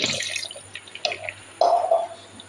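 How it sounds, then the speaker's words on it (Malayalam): Milk pours into a mixer jar with sugar for a muskmelon shake: a few scattered drips and splashes, then a brief, clearer liquid pour near the end, close by and fairly soft. "ഇതിന് ആവശ്യത്തിലുള്ള പഞ്ചസാരയും പാലും പിന്നെ കുറച്ച് പാലും ഒഴിക്കുന്നുണ്ട്"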